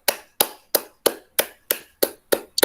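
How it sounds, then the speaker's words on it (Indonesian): A classroom of students claps in unison, giving roughly eight sharp, evenly spaced claps in a brisk rhythm that ends with a quick double clap. The claps are loud and close, with no talking. "kita beri aplaus dulu untuk semua kelompok"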